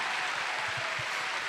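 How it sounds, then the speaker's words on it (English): Audience applause in a large convention hall at Star Wars Celebration, a steady wash of clapping held at moderate level, with a few low thumps near the middle. "So give yourselves a big round of applause."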